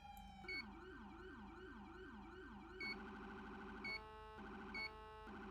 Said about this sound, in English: press your Alt, aka your third eye, to activate your sirens